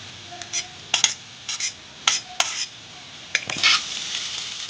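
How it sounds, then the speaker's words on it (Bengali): Fried vegetables are stir-fried with veg chowmein in a pan, giving a steady sizzle broken by repeated sharp clinks and scrapes of a utensil against the pan. "এরপর আমি এতে ভেজে রাখা ভেজিটেবলগুলোকে দিয়ে দিচ্ছি"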